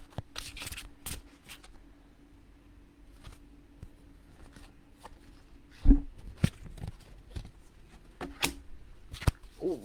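Oracle cards being shuffled by hand, soft riffling bursts and sharper taps scattered irregularly over a quiet background, close and fairly faint.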